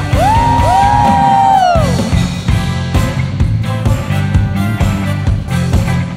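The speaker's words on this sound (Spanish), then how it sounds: "¿Puedes dar un grito de júbilo?" A church congregation lets out a loud, sustained shout of joy with rising whoops over a band chord, then the cheering fades into music and scattered calls.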